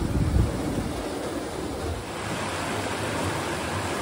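Steady, rushing water roars continuously through a man-made tunnel at Taheke Scenic Reserve, a dense broadband wash with a slightly hollow, enclosed, industrial quality, like flow echoing through a channel.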